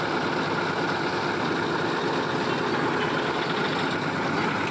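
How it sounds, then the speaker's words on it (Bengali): A road roller's engine runs steadily while paving a new asphalt road, a loud, continuous heavy diesel drone with a rough, rumbling texture and no break in the sound. "বন্ধুরা দেখতে পাচ্ছেন এই যে রোলার"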